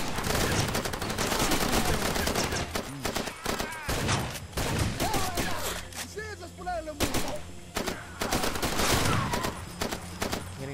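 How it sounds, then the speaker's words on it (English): Heavy video-game gunfire from Far Cry 2 keeps up steadily almost the whole time, with overlapping loud bursts coming from several directions, and a speaker talks over the shooting at times. "I'm getting shot from every angle and I'm not dying."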